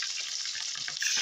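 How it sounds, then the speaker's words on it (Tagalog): Hot cooking oil spatters and sizzles around chicken frying in street-food style, a dense close crackle with quick pops all through one short burst. "tumatawsik yung mantika"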